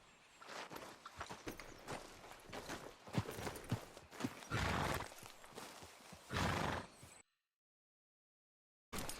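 A horse snorts and whinnies amid bursts of clopping hooves and rustling movement in the video game Red Dead Redemption 2, in an uneven rhythm, before cutting to sudden silence near the end.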